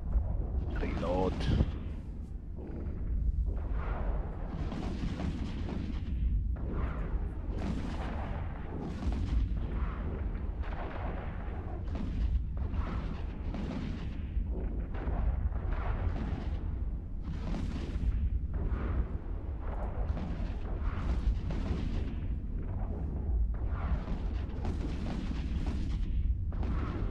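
Rockets firing from a ship in the EVE Online space game, a continuous run of rapid booming launches and bursts throughout, with a voice talking over them.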